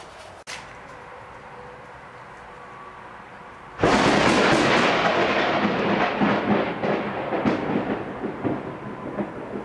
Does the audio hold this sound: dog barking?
no